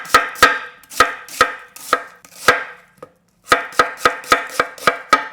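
Knife chopping onion for japchae, Korean stir-fried noodles: a steady series of sharp, close chops on a board, a brief pause near the middle, then a quicker run of strokes, with no voice.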